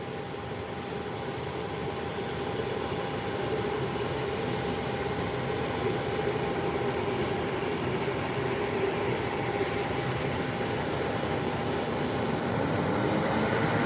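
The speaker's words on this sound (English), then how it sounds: "And the ATR 43 is not using all the runway at all." An ATR turboprop airliner on a short takeoff roll down the runway, a steady broad engine roar with a constant propeller whine that holds loud and even throughout, with no talking.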